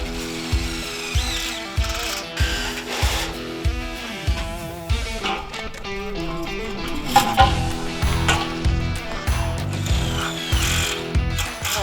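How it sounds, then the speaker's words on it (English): A power tool drives screws into a fence's U channel and bottom rail in repeated short bursts of whirring and ratcheting, close and loud, with brief pauses between screws. "I'm going through and putting the rest of the screws through the U channel and bolting up the bottom rail."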